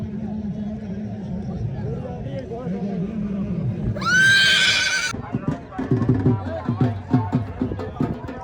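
Horse at a rural fair horse competition gives a loud, rising whinny lasting about a second, amid a crowd's babble and someone talking loudly over it, with some clopping and bumping noises afterward.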